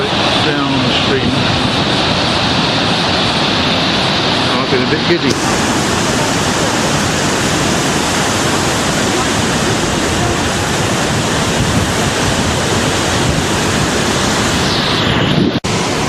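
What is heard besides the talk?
waterfall on a river in Iceland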